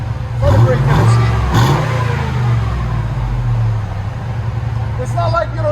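A 2005 Cadillac Escalade 6.0L V8 revving through a Dynomax turbo muffler, with a deep, throaty exhaust note, rising and settling; a person talks briefly over it near the start.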